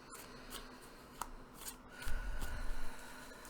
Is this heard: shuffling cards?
yes